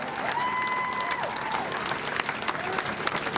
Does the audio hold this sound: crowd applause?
yes